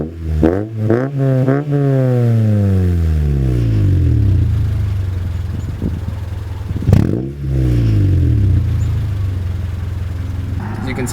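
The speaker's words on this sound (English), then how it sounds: "The only thing that's aftermarket is the catback exhaust that it has." A 2000 Honda Civic EX with an aftermarket catback exhaust revs loudly up and down several times in quick bursts, then settles into a steady idle before a second sharp rev and fall.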